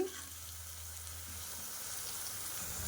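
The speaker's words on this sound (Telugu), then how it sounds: "చక్కగా వేగుతుంది ఉల్లిపాయ ముద్ద అంతా కూడా వేగుతుందండి" Onion paste fries in a pan for prawn egg curry, producing a faint, steady sizzling hiss heard alone and at low volume throughout.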